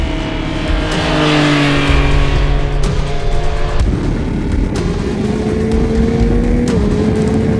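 The three-cylinder engine of a 2022 Yamaha XSR900 motorcycle drones and rises in pitch as it accelerates through the gears, steady and fairly loud with wind noise around it.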